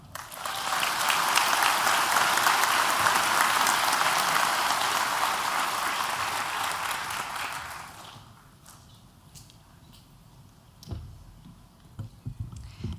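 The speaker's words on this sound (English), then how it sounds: "please give a warm round of applause for our 3rd District Supervisor, Don Rao." Sustained applause from a large crowd at a sheriff's academy graduation ceremony fills the first eight seconds, then fades into a quieter room with scattered knocks and footsteps.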